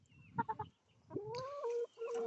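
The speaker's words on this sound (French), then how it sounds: "Alors, voici chez les poules." Chickens in an outdoor aviary clucking close by: a few short clucks, then a sustained, rising squawk-like call held for over a second.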